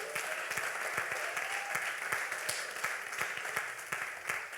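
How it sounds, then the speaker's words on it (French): Church congregation applauding loudly and steadily, a dense wash of many hands clapping with sharper individual claps standing out throughout. "Si tu as été béni, acclame puissamment le Seigneur."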